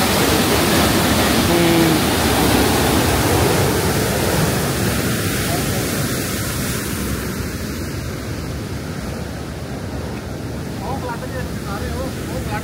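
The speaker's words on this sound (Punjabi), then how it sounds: "ਆ ਕੇ ਗੇਟ ਦੇਖੋ ਕਿੰਨਾ ਜ਼ੋਰ ਨਾਲ ਪਾਣੀ ਨਿਕਲ ਰਿਹਾ ਨਾ" Water roars forcefully through dam flood gates on a Punjab river leading toward Pakistan, a loud, steady broadband rush that stays close and constant throughout.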